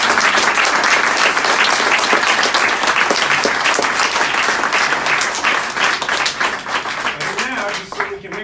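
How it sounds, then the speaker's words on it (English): A campus audience at a congressional candidate's town-hall conversation breaks into dense, sustained applause, loud and full for several seconds before thinning toward the end. "Let's give him another round of applause"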